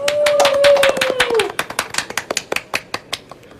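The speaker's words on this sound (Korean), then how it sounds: "박수로 맞이해 주시기 바랍니다." Scattered hand claps at a wedding reception, a handful of sharp, uneven claps thinning out over a few seconds after a brief tonal whistle-like sound, close and fairly loud.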